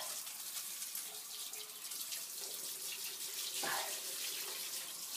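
A handheld shower sprays water steadily over a waterproof Traxxas RC car caked with snow and ice, a continuous close hiss of running water with no talking.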